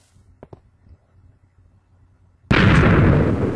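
TNT in Minecraft set off by a lever bursts into a sudden loud explosion after near silence, with a few faint clicks beforehand and a sustained roaring blast that continues to the end.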